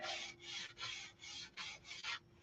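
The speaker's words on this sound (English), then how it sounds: "it's just a matter of sanding and tinkering." Steady hand sanding on wood, seven even back-and-forth rasping strokes in a regular rhythm, close and clear with nothing else heard.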